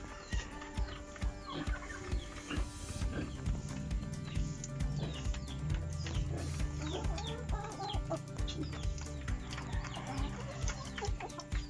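Brown egg-laying hens on a rural Philippine farm cluck repeatedly in the morning, a steady busy chorus of near and farther birds with constant background farmyard noise.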